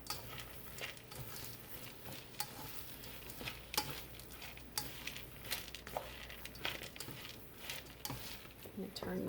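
Spinach being stirred into a lentil and potato soup on a stovetop, with a soft continuous simmer under irregular spoon scrapes and clinks, fairly quiet and close.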